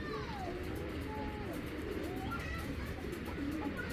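A foreign-bloodline racing pigeon, a female, gives soft murmuring coos that are faint and low against a steady background hiss.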